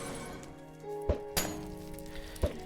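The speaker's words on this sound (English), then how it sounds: "guess what happens when you throw a splash water bottle at them?" Two sharp glassy shattering cracks of a thrown splash water bottle in Minecraft, over a quiet tonal background, then a softer clink near the end.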